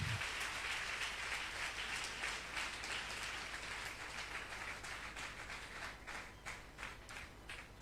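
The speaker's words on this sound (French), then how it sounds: "Acclamons encore très fortement le Seigneur." A church congregation applauding and acclaiming the Lord, a sustained patter of many hands clapping at moderate distance, steady and fairly faint, with no speech over it.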